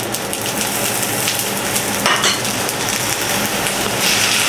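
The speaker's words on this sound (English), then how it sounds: "We're gonna fry this until it's cooked all the way through." Steady crackling sizzle of Goya frying in butter in a hot skillet, continuous and fairly loud, with faint clinks of utensils.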